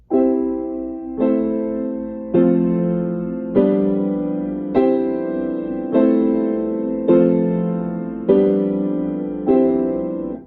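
Piano chords struck about every 1.2 seconds with the sustain pedal held down throughout, each ringing on and smearing into the next so the notes blur together into a sustained wash.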